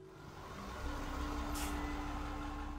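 A bus pulls up in the video game Collapse - Fall of Porcupine: a steady low engine rumble builds and holds, with a brief hiss of air brakes partway through and a faint tonal whine.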